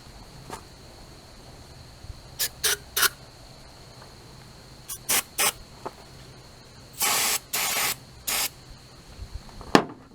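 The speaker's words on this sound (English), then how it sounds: "I'm going to shoot some cleaner up in there." Carburetor cleaner sprayed into the carburetor of a Briggs & Stratton Craftsman small engine, a series of short hissing aerosol bursts, several quick ones and then a few longer sustained sprays, close and fairly loud with no talk.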